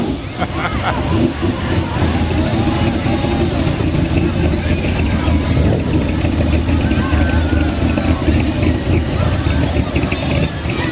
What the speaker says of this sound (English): I'm sure that in this little truck here is not a 4-cylinder.